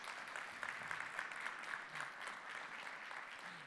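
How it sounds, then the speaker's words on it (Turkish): Conference attendees at an international insurance summit applaud the simultaneous interpreters, a faint, steady wash of many hands clapping from a distance. "Onlara da bir alkış rica ediyorum"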